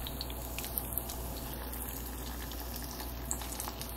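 Spring rolls sizzling in shallow hot oil in a pan, a steady dense crackling hiss with scattered pops, close and continuous throughout.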